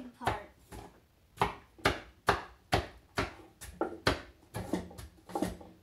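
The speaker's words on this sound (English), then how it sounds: "We're chopping the chopping bowl." Charoset ingredients being chopped in a wooden chopping bowl, giving about a dozen steady, close thumping chops in an even rhythm.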